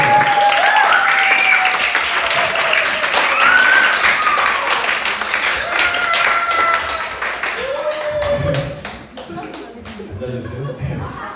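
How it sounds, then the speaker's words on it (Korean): A children's Sunday-school congregation at a church worship service claps in sustained, lively applause for about eleven seconds, with a few high voices calling out over it before it thins near the end. "응원의 박수 한번 보내드립니다"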